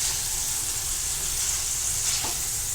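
Paneer cubes shallow-fry in oil in a pan, giving a steady, close, hissing sizzle that runs unbroken throughout, with one faint scrape of stirring and no talking.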